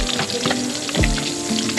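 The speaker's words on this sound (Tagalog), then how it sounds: "nagpiprito ng pang-almusal" Galunggong fish frying in hot oil for breakfast, a steady close sizzle and crackle running throughout with a few sharper pops and stirring clatters.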